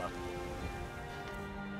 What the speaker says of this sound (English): If I can outlast this rain.